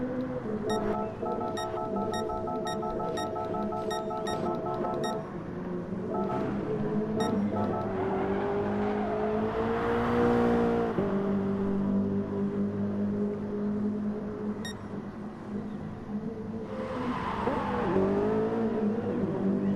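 Race cars on the final lap of a NOSSCAR Super GT Series race at Circuit de Barcelona-Catalunya, engines rising and falling in pitch as cars accelerate and pass, with a repeated electronic beeping early on.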